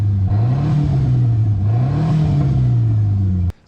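A 1988 Ford Thunderbird Turbo Coupe, abandoned and left sitting 20 years, runs at a raised idle: a close, loud, steady engine drone whose pitch slowly rises and dips, cut off abruptly near the end.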